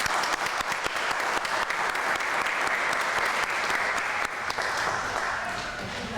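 Applause for new citizens at a US naturalization ceremony, a steady, even round of many hands clapping throughout, moderately distant and continuous with sharp individual claps standing out.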